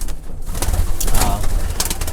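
Pigeons in a loft coo softly at close range, low murmuring calls over a busy background of rustling and shuffling, with no clear talk.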